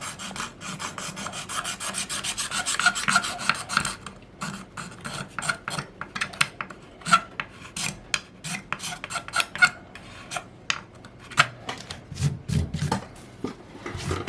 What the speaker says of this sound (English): just scraping the funk off